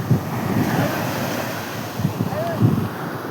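Water waves wash in at a shore, with a continuous loud rush of surf and wind buffeting the microphone. Swells of breaking water rise at intervals.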